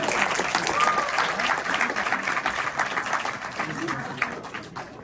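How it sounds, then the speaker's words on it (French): At a film club screening, an audience breaks into steady, continuous applause, a dense, even wash of clapping from a sizeable crowd with some voices underneath. "On peut applaudir."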